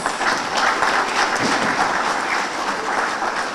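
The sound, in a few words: audience applause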